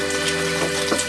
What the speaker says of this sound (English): We are going to strain them in the strainer.